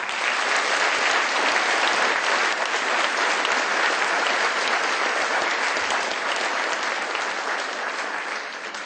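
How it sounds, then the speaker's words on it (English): A large audience gives a musician sustained applause, a thick, even wash of many hands clapping at once. It holds steady for several seconds, then eases a little at the end. "Please give another round of applause for this exceptional artist"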